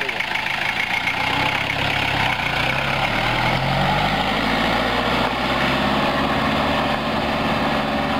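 A small car fitted with a converted diesel tractor engine idles steadily nearby, a low continuous rumble with no changes in pace.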